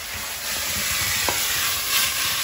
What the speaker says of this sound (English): Beef can go back in. You have to keep stirring